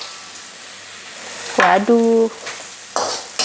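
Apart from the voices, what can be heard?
dried shrimp (ebi) frying in oil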